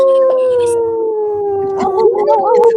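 A dog howls in a long, sustained rising-and-falling wail that runs nearly the whole time, loud and close, with a few wavering yips toward the end over faint background voices.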